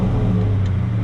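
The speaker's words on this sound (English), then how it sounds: "I figure I'll go ahead and let you guys at least hear the car" A stock 1999 Mustang Cobra idles with an aftermarket exhaust, giving a steady low rumble with a strong bass tone that stays even and close, with no voices.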